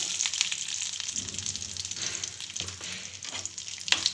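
Curry leaves crackling and sizzling in hot tempering oil on a turned-off stove, with asafoetida, a moderate, uneven spattering with small pops and stirring scrapes, no talking.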